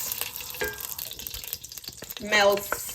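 Palm oil sizzling in a very hot pan for ogbono soup, a bright hissing crackle that swells sharply near the end, with a person talking in the background.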